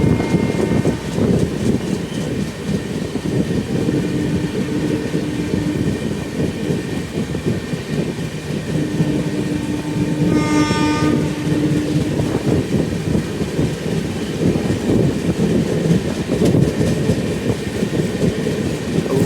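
Riding the 15231 Barauni–Gondia Express sleeper and AC coaches, a train rumbles steadily from inside with constant clatter and hum, brief tonal squeals rising midway.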